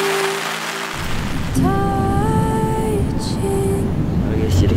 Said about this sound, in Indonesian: Cuman sekarang ada hujan, jadi kita tunda dulu untuk explore Dieng-nya.